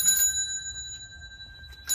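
A house bell rings with a bright, sustained metallic tone, struck at the start and again at the very end, its ringing fading slowly in between over a low background rumble.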